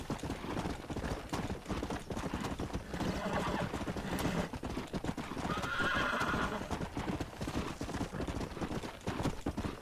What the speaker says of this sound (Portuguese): Stallion's getting away. Chase him down and bring him back.